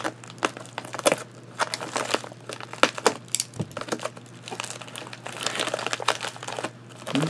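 Crinkly wrapping and packaging material on a mail package being pulled and torn open by hand, busy irregular crackles and rustles close by throughout, with no talking.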